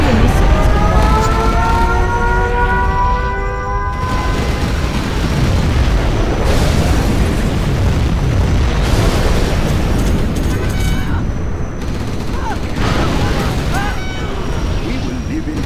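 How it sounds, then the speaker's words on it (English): A nuclear missile strike in Command & Conquer: Generals – Zero Hour rumbles as a long, loud, roaring blast, with crackling debris and repeated booms under in-game voice lines and battle noise. "A nuclear missile has been launched."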